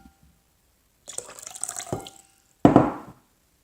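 Lukewarm water is poured into a bowl in two short splashy bursts, the second louder and fuller, close by with quiet gaps around them.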